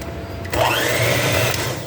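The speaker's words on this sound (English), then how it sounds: "depending on if you decide to use your handheld blender or your standard mixer" An electric mixer creams butter and sugar for a classic yellow cake: a steady, loud whirring hum starts abruptly and runs on without a break, with no talk over it.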